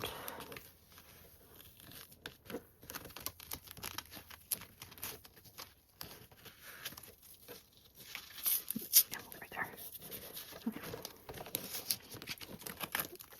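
Sewing fabric, a lining and exterior, being folded out makes soft, quiet crinkles and rustling taps in scattered bursts, with some low speech in the background.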